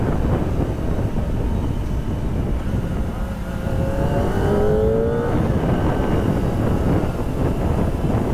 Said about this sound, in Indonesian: Suara mesin Kawasaki itu emang the best